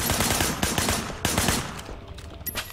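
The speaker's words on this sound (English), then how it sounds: "Shooting at the guys over there." Gunfire in the Sleeping Dogs video game: a short, dense burst of repeated shots and cracks over a busy background, loud and close, lasting under three seconds.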